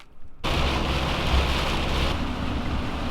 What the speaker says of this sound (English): They decided to give us a little rain for welcoming back into Germany